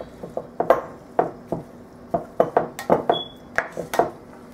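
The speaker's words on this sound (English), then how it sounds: "Just gently stir." A utensil stirs a sweet potato casserole mixture in a dish, producing a run of close, irregular clinks, taps and soft scrapes with brief pauses between them and no talking.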